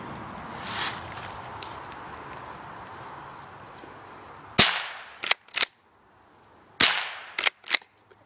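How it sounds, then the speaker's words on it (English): A Remington Model 121 rifle fires two sharp, loud shots close by, each followed by quick metallic clacks of the action cycling and extracting, after a stretch of quiet handling noise. "Two shots. Extracted both times. Worked perfectly."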